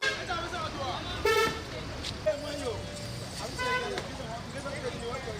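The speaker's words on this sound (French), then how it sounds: "Ces gares routières, habituellement calmes à cette heure de la nuit, vibrent ce soir au son des klaxons de véhicules" Vehicle horns toot in short bursts across a busy night bus station, mixed with crowd chatter and traffic rumble; voices talk throughout.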